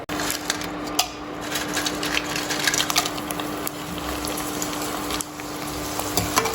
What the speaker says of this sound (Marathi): तर आता आपण हे वेफर्स तळून घेऊयात